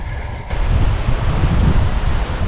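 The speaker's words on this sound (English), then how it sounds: "As you can see, and probably hear, it's still quite windy." Strong gusting wind buffets the microphone while out on an eBike, a loud, steady roaring rush with no talk, close and continuous throughout.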